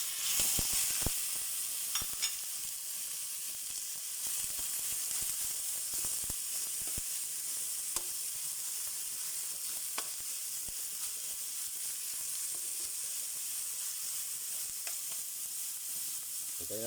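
Ground meat frying in a pan for a home-cooked molo soup meal, giving a steady close sizzle and hiss throughout, with occasional stirring clicks and no talk.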